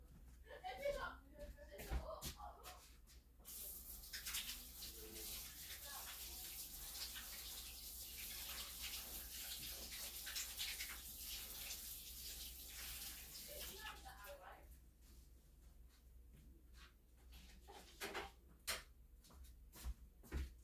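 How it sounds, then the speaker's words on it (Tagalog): A tap runs steadily while hands are washed at a kitchen sink during naan bread preparation, a soft continuous water rush for about ten seconds framed by splashes, handling noises and quiet talk. "maghugas ako ng kamay"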